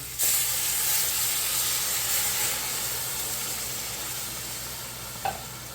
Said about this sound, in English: I'm gonna flip the chicken here. We're sizzling, right?